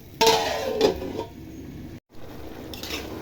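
A lid set down on a pot of colourful mixed vegetable curry, two close clattering knocks of metal followed by a quieter clink and low kitchen background.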